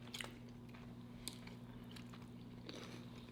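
Someone bites into and chews a crunchy cauliflower pizza crust from MOD Pizza, giving a few sharp crunches and then soft, quiet chewing under a low steady hum.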